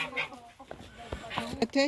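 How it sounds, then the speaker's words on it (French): An Ayam Cemani rooster clucks in short, close bursts under and between a man's speech, with brief throaty calls scattered across the moment. "Le coq est là."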